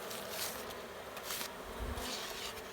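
A dense, steady hum of many honeybees buzzing close by, fairly loud and continuous with slight swells.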